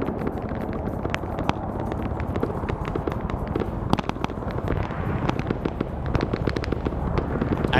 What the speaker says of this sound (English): I still got tank rounds firing up at them too